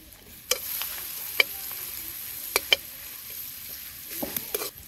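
Garlic paste sizzles quietly in a frying pan over a traditional fire, a soft steady frying hiss broken by a few sharp clicks and ticks of utensils, close and without any talking.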